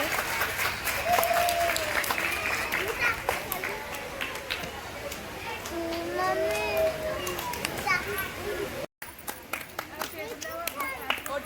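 Audience clapping at a school annual day, a dense burst of applause mixed with children's shouts and chatter nearby, with adult voices talking over it throughout.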